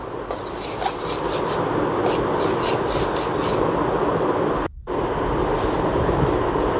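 A spoon stirs loitta dried fish bhuna in a pan, giving a continuous close scraping and rubbing with quick repeated strokes, briefly pausing once before carrying on.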